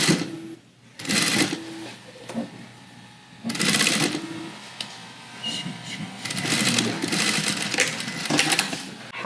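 A sewing machine stitches the casing of an underwire bra in several short rapid whirring bursts, close and fairly loud, separated by pauses while a person talks.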